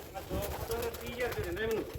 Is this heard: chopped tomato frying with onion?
no